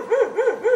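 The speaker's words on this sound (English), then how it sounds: "is that a little dachshund over there? That's a little dachshund." A small dachshund barks three times in quick, evenly spaced yelps, fairly close and clear at an animal rescue, with no talking.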